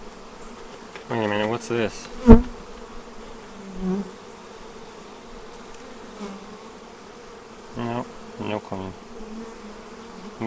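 Honeybees buzz around a nucleus hive in the Ozarks, close and steady, with individual bees droning loudly past the listener in brief bursts, while a person speaks briefly.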